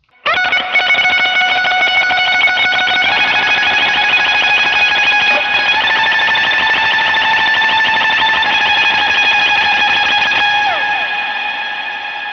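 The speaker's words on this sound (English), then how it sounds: "And so with the tremolo picking," An electric guitar plays fast, continuous tremolo-picked notes through delay and distortion effects, a sustained shimmering wash with sliding pitch that holds loud for about ten seconds before fading slightly, with no talking.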